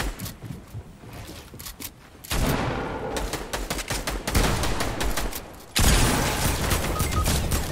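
Sustained video game gunfire rattles loudly in dense automatic bursts with brief gaps, continuing steadily throughout with no talk over it.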